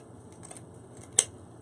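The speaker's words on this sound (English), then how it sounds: "I don't measure, I don't fold, I just cut." Scissors snip through ribbon with a single sharp, close cut after a moment of faint rustling in a quiet room.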